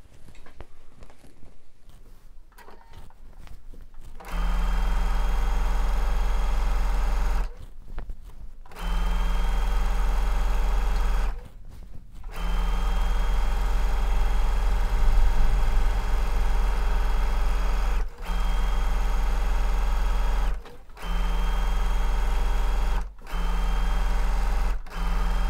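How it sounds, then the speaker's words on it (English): A sewing machine top-stitches a bench pillow with a border print, running in steady whirring bursts of several seconds each, separated by short pauses. "now we're done with stitching both sides"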